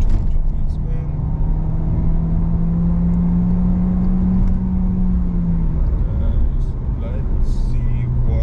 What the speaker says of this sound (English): So just press the brake, accelerate, and just go.